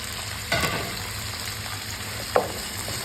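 Spring onion, garlic and green chilli sizzle steadily in a hot frying pan, with two brief scraping stirs of a utensil breaking through the continuous close frying hiss.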